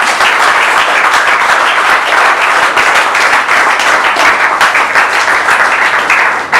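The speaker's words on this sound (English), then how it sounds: "I think he deserves more clap than that." An audience at an Ikorodu community meeting on cybercrime with police and parents gives a senior police officer loud, dense, sustained applause that continues without a break.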